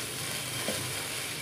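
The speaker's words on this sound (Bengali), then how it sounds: "সেই পোস্তটাকে আমি এবার একটু নাড়াচাড়া করব। এটার সাথে জাস্ট একটু ভাজা ভাজা হবে।" Poppy seeds frying in a pan with oil as they are stirred, giving a steady, close, even sizzle that holds without break and has no voices over it.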